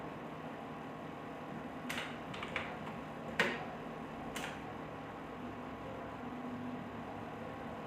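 Dates are typed on a computer keyboard in a few sparse, light key clicks over a steady background hum, with no talking.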